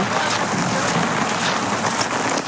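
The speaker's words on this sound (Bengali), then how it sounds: "সকাল থেকে বৃষ্টি হচ্ছে" Steady rain pours down over a traditional Friday village market at Nagarkonda, a loud, close, unbroken hiss and patter with no speech heard.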